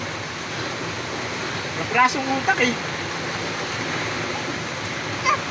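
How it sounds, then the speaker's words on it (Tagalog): Heavy rain pours down in a steady, dense hiss that fills the whole scene, with a person briefly talking over it. "malakas yung ulan"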